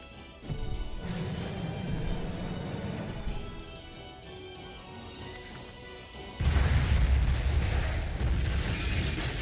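Explosion sound effect in a narrated story: a heavy rumbling blast that holds steady, then surges into a louder, deeper boom partway through, dense and roaring without speech.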